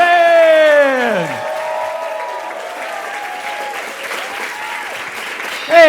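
Comedy club audience applause for a comedian: loud, steady clapping and cheering from the crowd, with a voice speaking over the applause as it carries on throughout.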